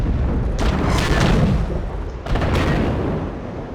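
Artillery shells hitting in World of Tanks: two heavy, loud booming blasts a couple of seconds apart, each followed by a rumbling tail.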